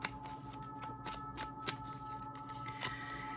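A deck of cards is riffled and shuffled in a run of quick, crisp flutters with a few sharper snaps, close up and alone.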